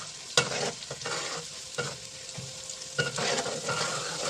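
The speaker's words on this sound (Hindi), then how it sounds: "आपने इसे सिर्फ थोड़ा सा फ्राई करना है, बिल्कुल चंद सेकंड के लिए।" Mixed vegetable rice ingredients fry in a pan with a steady, close sizzle, broken by repeated scraping stirs at an even rhythm.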